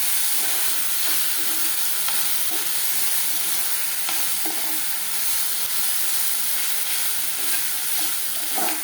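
Finely chopped ripe tomatoes fry in a pan for soya chunks keema, giving a steady bright sizzle with occasional stirring scrapes and no voices.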